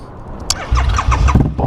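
A Harley-Davidson V-Rod engine catches and revs close by, the exhaust giving a quick burst of rising, pulsing blips over a deep throaty rumble in under two seconds.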